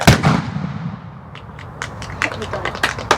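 A historic-fort reenactment gun firing on command at the old fort in Mackinac City, Michigan: one loud, sharp report opening the moment, followed by rolling echo, scattered crackles and crowd noise with people talking.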